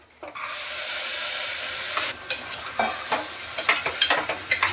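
Black-eyed peas sautéing in hot oil inside a pressure cooker give a steady close sizzle, with a few scraping stirs and clatters of a spoon building toward the end.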